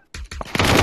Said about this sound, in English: How can a shotgun shoot from that far?